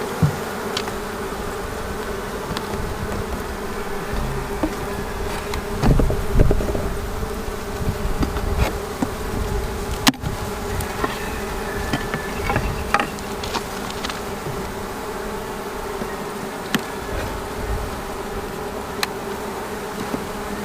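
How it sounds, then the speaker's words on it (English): Honey bees buzz continuously around an opened hive during a spring inspection, a dense close drone with scattered nearer fly-bys and occasional faint clicks of equipment, no voices. "plenty of bees, good"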